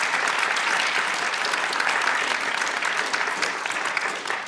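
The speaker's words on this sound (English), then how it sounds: "please give them a round of applause, for this discussion" An audience at a conference forum applauds the panelists at the end of a long discussion day, a steady wash of clapping that holds evenly throughout.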